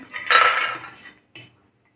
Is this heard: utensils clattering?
yes